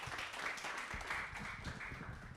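Faint scattered clapping from a small seminar audience, soft and somewhat distant, without voices over it.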